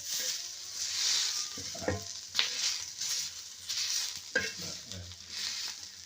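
Finely chopped onions with green chillies fry on a hot griddle, giving a continuous sizzle broken by a few sharp scrapes as a spatula stirs them.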